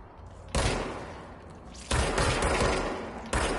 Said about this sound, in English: They're shooting back, they're shooting back!